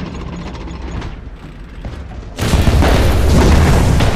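A tank in War Thunder takes an enemy shell that sets off its ammunition: a steady mechanical engine rumble suddenly gives way to a loud, sustained roaring blast that fills the rest of the stretch, with no talk.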